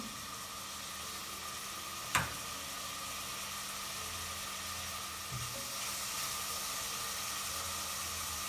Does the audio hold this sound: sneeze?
no